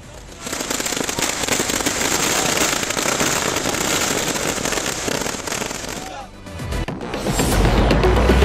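A dense, continuous barrage of firecrackers bursting at a street-circle celebration, loud and crackling for several seconds before a brief lull and another rise of noise.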